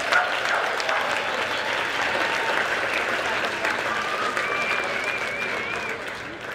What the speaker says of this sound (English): How about another round of applause for all our queen candidates this year?